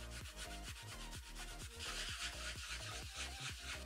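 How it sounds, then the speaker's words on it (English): Rough-grit sandpaper scrubbing back and forth across oiled wood for a slingshot build, a steady rhythmic rasp of repeated strokes, close and fairly loud, with no talking. "we're gonna need to use some rough grit sandpaper and sand away as much oil as we possibly can"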